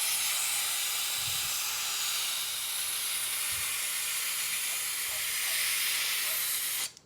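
Compressed air hisses steadily from an air tank during wax foundation pressing, a loud continuous rush that holds for several seconds, then drops off abruptly at the end as the tank runs out.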